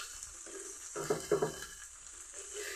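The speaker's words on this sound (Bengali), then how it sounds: "আর এদিকে একটা শব্দ হচ্ছে, তোমরা শুনতে পাচ্ছ, ফুটে ফুটে উঠছে ভাজাটা।" Raw turmeric paste cooks in a wok, a low soft sizzle broken by a few bursts of thick bubbling and popping near the middle, fairly quiet throughout with no talking.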